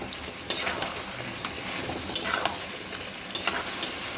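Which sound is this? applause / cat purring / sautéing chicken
sautéing chicken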